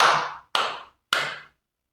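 Three loud, sharp hand claps about half a second apart, each ringing out briefly before fading, with nothing else around them.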